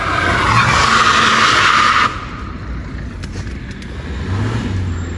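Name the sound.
car tyres skidding and squealing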